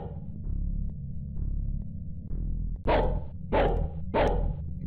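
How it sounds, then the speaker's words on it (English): In the horror video game Nightmare Zapping, a dog barks three times in quick succession, sharp and close, after a stretch of low ambient hum. "I realized this was no ordinary dog"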